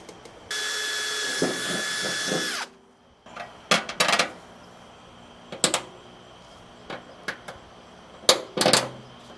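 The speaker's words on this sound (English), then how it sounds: "I'm going to go ahead now and drill out a couple more holes, put our P-clamps in" A power drill bores holes for P-clamps on a 1975 Ford F150, a loud sustained whirring burst followed by several short, sharp drilling and handling knocks spaced irregularly, close up.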